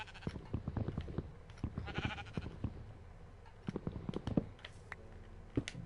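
Sheep in the Minecraft video game bleat repeatedly in short, sharp calls scattered across the moment, with a burst of soft ticking clicks in between; no one speaks.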